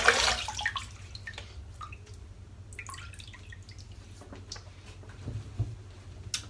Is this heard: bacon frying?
no